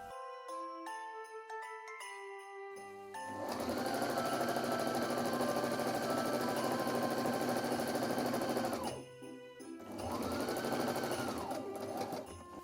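A sewing machine stitches a fabric tube for Christmas crackers, starting with a few isolated clicks, then a long steady whirring run, a short pause, and a second shorter burst, close and loud.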